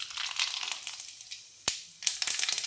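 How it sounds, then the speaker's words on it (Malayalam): Mustard seeds popping in hot oil in a home kitchen, making a dense, crisp crackle with scattered sharp pops, one loud snap in the middle and a burst of quick pops near the end. "കടുക് പൊട്ടിച്ചിട്ട്"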